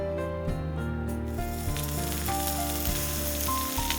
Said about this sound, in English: The sound of the crackling oil blends in with the sizzling sound of frying eggs